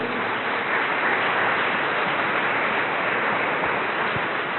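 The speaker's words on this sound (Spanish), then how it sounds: "Démosle un aplauso al Señor." A church congregation applauds in praise, a continuous, muffled wash of clapping that stays even and moderately loud, with no voices standing out.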